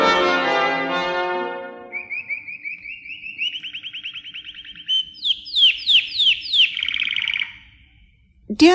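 Bird calls ring out clearly: a falling harmonic cry, then a steady warbling whistle and a quick run of sharp, repeated rising chirps that stop abruptly.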